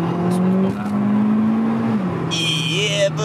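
Seat Ibiza FR car accelerating from inside, a steady engine drone rising in pitch with a high turbo whistle and whine coming in near the end, loud and close.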